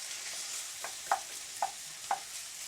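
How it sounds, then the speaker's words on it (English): Onions fry in a pan with a soft sizzle while a utensil stirs them, three brief scraping knocks standing out over the quiet hiss. "I don't want to burn the onions, so just keep it moving"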